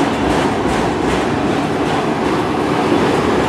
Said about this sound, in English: I've never seen an Autorack train this long before.